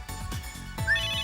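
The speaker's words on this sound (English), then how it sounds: "That's my in-gear's ringtone." A ringtone from an in-gear phone in MegaDimension Neptunia VII: a bright, repeating electronic melody of clear synthetic tones over low, steady game background music, fairly loud and close.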